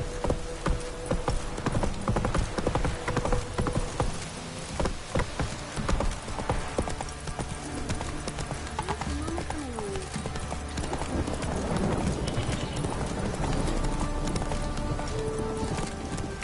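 Roach, the horse in The Witcher 3, clip-clops with steady rhythmic hoofbeats at close range, speeding into a quicker gait partway through, while a voice speaks occasionally.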